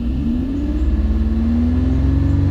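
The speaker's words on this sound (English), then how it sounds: "Let's rev it up." A Toyota or Lexus engine revs up during a mass airflow sensor check, its steady close rumble climbing gradually in pitch over a couple of seconds, with no talking.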